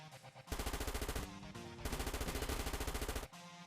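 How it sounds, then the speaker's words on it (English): Rapid automatic gunfire in the video game Final Fantasy Record Keeper, two long loud bursts of evenly spaced shots separated by a short pause, with quieter game sound on either side. "just some children dealing with a hail of gunfire"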